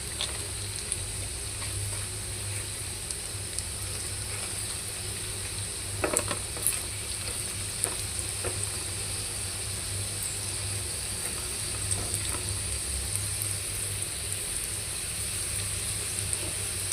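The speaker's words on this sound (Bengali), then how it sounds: "এমনভাবে নাড়তে হবে যাতে দুই পাশে ভালো করে ভাজা হয়ে যায়।" French fries fry in hot oil with a steady, close sizzle, while occasional soft scrapes and clicks mark the stirring and turning of the fries.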